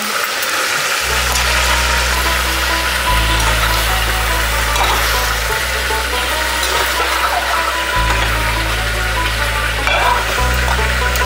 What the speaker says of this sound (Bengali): আর এদিকে মটনের মশলাটাও ভাজা হয়ে গেছে। এখন মটনটা দিয়ে দিচ্ছি।